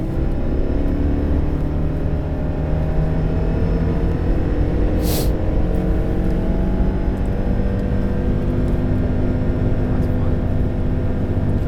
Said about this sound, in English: I think we should gas it at least once and see what we're working with here out of this 2-liter engine